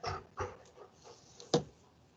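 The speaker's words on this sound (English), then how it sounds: "Sorry if you can hear my dog in the background." A dog whimpers anxiously indoors in short, faint whines and yips, several brief bursts spaced across a quiet room.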